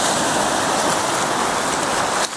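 Ocean water rushes over coastal rocks as white water, a loud continuous hiss and roar close by that eases slightly at the end.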